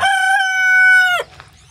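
A Rhode Island Red rooster crows once, loud and close, a long sustained call of just over a second that breaks off abruptly, followed by faint clucking.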